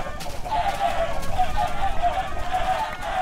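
Chickens cluck repeatedly in Minecraft, a steady run of short clucks over busy game noise, with no talking.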